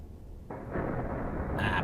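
A modern car crashes in BeamNG Drive: a sudden loud, heavy impact boom bursts in after a quiet moment and rumbles on, with a brighter metallic clatter at the end.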